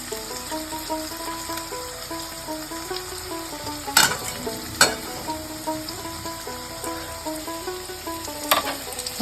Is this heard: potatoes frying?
yes